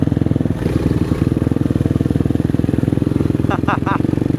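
Motocross motorcycle riding a flat track with a steady, loud mid-pitched engine drone close by, a brief rev near the end, and people talking over it.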